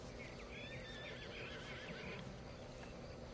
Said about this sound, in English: Where's my horse? Alright, there's the big fella.